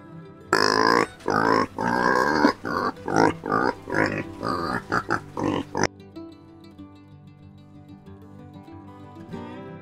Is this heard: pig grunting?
yes